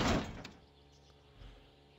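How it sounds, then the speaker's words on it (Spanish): A car door being fitted in the My Summer Car game, with a single fairly loud thud at the start, a light knock after, and a softer bump later over quiet background. "Vamos a poner la puerta en su sitio."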